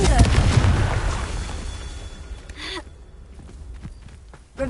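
A Confringo spell blast in the Hogwarts Legacy video game bursts loudly at the start and decays into a rumbling wash, followed by quieter game effects and a fresh hit at the very end.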